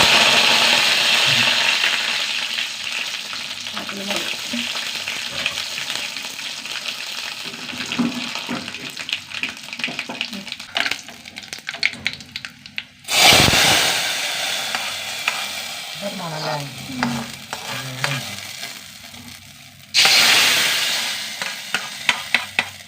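Mustard seeds, fenugreek and curry leaves fry in hot coconut oil with a loud, steady broadband sizzle that runs throughout, broken by sharp bursts of spattering as the leaves hit the oil, and light stirring scrapes underneath.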